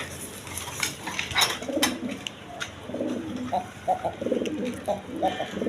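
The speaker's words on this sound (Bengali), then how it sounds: "এইখানে এক পেয়ার রেড কালার আপনার লাহোরি কবুতর আছে, একদম বিগ সাইজে" A pair of big red Lahori pigeons coo in soft repeated bursts up close, with a voice talking over them and a few sharp clicks and rustles.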